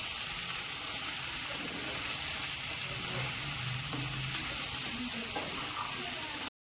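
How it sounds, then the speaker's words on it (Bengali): Ghugni made with mutton fat being stirred and fried over a low flame: a dense, steady sizzle close by with faint stirring scrapes, cutting off abruptly at the end. "এবার কিন্তু একটু অল্প আঁচে সুন্দর করে নেড়ে নেড়ে একটু কষিয়ে নিতে হবে"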